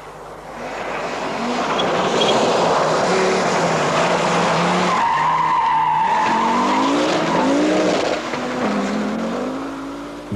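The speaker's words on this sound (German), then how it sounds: "Statt monumentaler Panzer driften bei dieser Rallye jedoch hochgezüchtete Automobile über das" Rally cars at the 1983 ADAC Rallye Deutschland drifting over open terrain, a loud engine roar swelling as a car passes close, with revs rising and falling through gear changes and tyre scrabble beneath.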